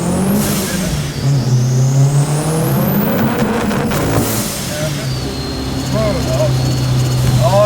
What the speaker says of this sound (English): this is a Uno Turbo that I'm driving